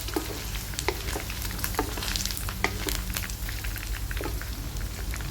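Solid pork lard melting and frying in a pan, a dense, steady crackle and sizzle with scattered sharper pops, close and continuous with no talking.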